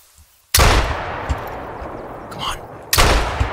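Two booming shots from a large-calibre elephant gun fired at small game, each a sharp, loud blast with a long decaying roar, spaced about two and a half seconds apart, close to the microphone.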